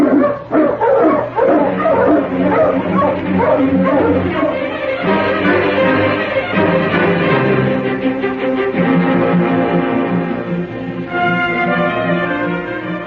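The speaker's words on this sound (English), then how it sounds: "Get the dogs up, King." Several sled dogs bark and yip together over a dense, continuous wash of sound, loud and steady throughout.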